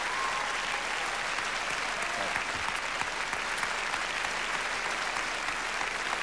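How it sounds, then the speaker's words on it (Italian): A large television studio audience at a beauty pageant final gives sustained applause as a contestant is eliminated, a thick, continuous roar of clapping heard alone throughout. "adesso l'applauso è tutto per Eleonora che viene eliminata."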